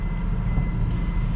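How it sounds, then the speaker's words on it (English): A shallow-water depth alarm on a cruising sailboat in the Bahamas, a steady electronic beeping tone heard over low engine or hull rumble, continuous for the brief moment. "shallow water alarms going off."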